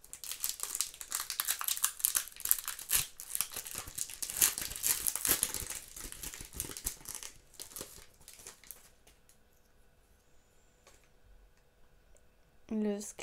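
A Magic: The Gathering Bloomburrow booster pack is torn open and its foil wrapper crinkled up close, with dense crackling for several seconds before it fades to near quiet and a short rustle at the end.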